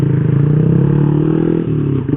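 A Honda Revo Standard motorcycle fitted with a BRT Type S1 camshaft screams at high revs on a road ride, its loud, steady engine drone holding before dipping briefly near the end.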